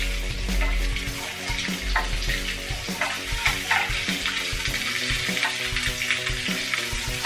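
Mixed vegetables, all cut to similar shapes, hiss and crackle in hot oil in a pan for a sweet and sour chicken with lychees, with clattering stirring knocks throughout and no talking.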